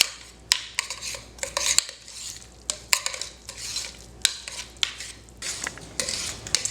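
Mashed sweet potatoes with heavy cream, cilantro, garlic and grilled bacon are stirred in a bowl, a spoon scraping and knocking in a quick, uneven rhythm of close, sharp clacks, with no voices.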